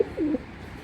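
A single foreign-breed Tiger Chocolate pigeon gives one short, low, throaty coo close by, with a soft background hum and no voices.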